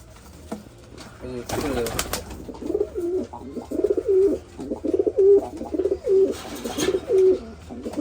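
Pigeons at a pigeon farm coo close by in a steady run of repeated soft, throaty calls, after an opening burst of flutter or rustling, with someone talking intermittently over them.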